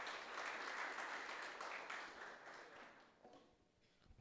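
Church congregation applauding during a sermon, a dense wash of many hands clapping that holds steady, then thins and fades out toward the end.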